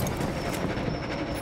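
Train rolling along in the video game Battlefield 1, a steady broadband rumble with rail clatter running continuously and fairly loud throughout, with no talk.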